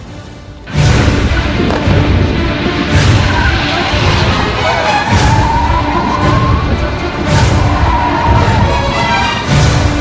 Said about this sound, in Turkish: Silahlar patladı.